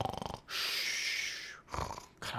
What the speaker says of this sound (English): I hope I don't snore that loud in real life.